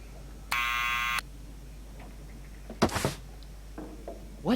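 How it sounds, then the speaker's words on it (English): A harsh electronic buzzer sounds once for about half a second, followed by a door or window knocking and clattering sounds in a quiet room. "we need to do the buzzer first"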